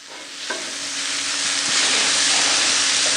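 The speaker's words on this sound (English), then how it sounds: "sear off real nice in that cast iron pan over about a medium heat" Shrimp searing in a cast iron pan over medium heat, a steady broadband sizzle that swells louder over a few seconds, close and continuous with no talking.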